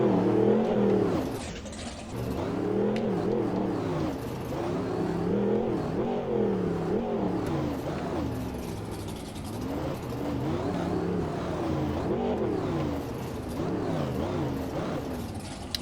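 Monster truck engine in the Rigs of Rods driving game, a steady loud droning roar that rises and falls in repeated revving swells across the whole stretch, with no talk over it.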